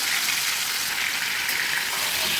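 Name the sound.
boiled pointed gourd (potol) poured into hot oil with cumin, frying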